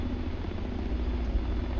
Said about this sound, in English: I turn physical off so that the helicopter could sit here without moving.